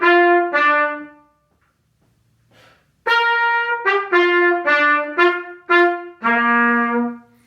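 A brass instrument plays a short tune up on high C, clean sustained notes with separated articulation, a pause after the opening two notes, then a run of tongued notes ending on a held tone, close and alone.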